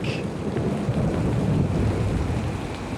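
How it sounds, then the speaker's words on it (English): Tropical storm on an island survival camp, with steady roaring wind buffeting the microphone and a dense wash of rain noise, loud and continuous throughout with no voices. "the camp is now hit by a 5-hour tropical storm"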